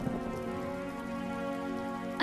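Steady rain falls in a cartoon farm story during the rainy rice-planting season, a dense continuous patter at even loudness throughout, with no voices.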